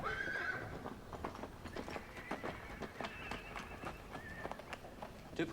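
A herd of wild mustangs runs past, a dense rolling patter of many hooves with occasional neighs and whinnies rising over the thunder, fairly close and continuous.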